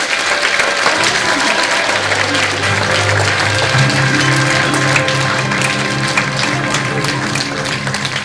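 An audience at a performance of "The Little Prince" applauds warmly, a continuous thick wash of many hands clapping at steady loudness throughout, with faint voices and music-like tones underneath.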